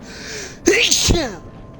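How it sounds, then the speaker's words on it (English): A single loud, close sneeze with a sharp intake before it and a breathy release after. "I'm gonna sneeze real quick."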